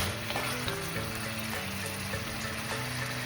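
Spice masala for Kolkata biryani frying in a pan, a loud close sizzle with stirring and clinks of a spoon against the pan, no talk.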